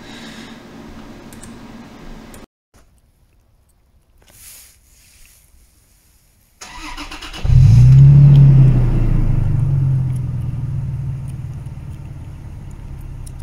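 A Toyota Tacoma engine cranks briefly after some quiet handling noises, then catches and settles into a steady, loud, low idle rumble that runs to the end, with no talking.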